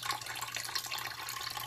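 Water sprays or runs steadily onto hair for a water test at home, a continuous close hiss with fine droplet texture and no speech.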